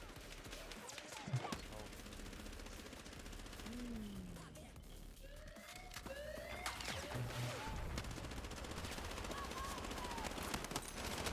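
Rapid automatic gunfire from a P90-style weapon in the shooter game Battlefield 6, with bursts and explosions in a busy battle mix, heard under voices talking.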